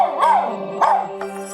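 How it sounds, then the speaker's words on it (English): A small dog left alone behind a closed door barks in two sharp yelping bursts, then gives fainter whimpering yips, close and clear with no talking. "he's gone from just a little bit of whimpering to barking to howling"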